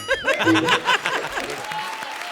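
A television comedy show audience claps and laughs together, the applause swelling at first and then settling into a steady, moderate patter, with chuckles and a voice mixed in near the start.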